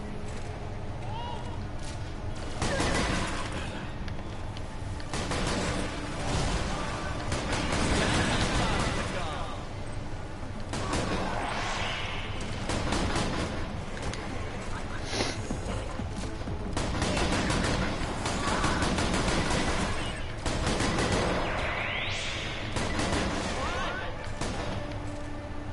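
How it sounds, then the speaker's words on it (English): Rapid bursts of shotgun gunfire from the first-person shooter Borderlands: The Pre-Sequel, loud and dense with repeated blasts and clattering impacts layered over busy game effects throughout. "Shotguns."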